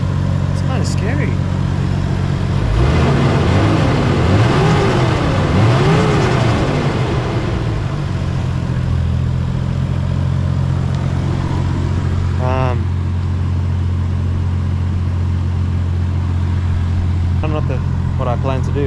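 Toyota 1JZ engine fitted with a custom exhaust revs hard, rising and falling in loud bursts over a steady rumbling drone, with a voice heard briefly early on.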